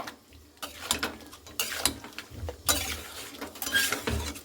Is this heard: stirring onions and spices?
yes